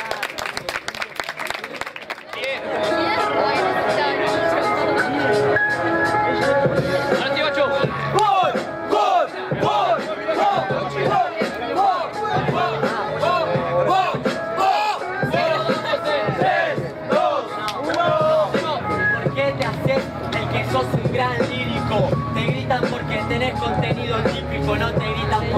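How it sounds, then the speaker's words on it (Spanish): Crowd at a rap battle cheering and applauding for Román, a dense roar of clapping, shouts and whistles that swells after a brief opening call and stays loud and continuous throughout. "Guacho, un aplauso para Román."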